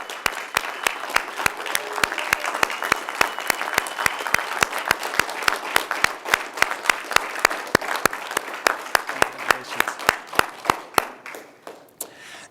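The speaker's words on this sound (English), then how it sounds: "one more round of applause for our graduates of Construction Ready at Aerotropolis, group number 6" Graduation audience applauding graduates of a construction training program, a crowd clapping with a steady, closely spaced rhythm that thins out and fades near the end.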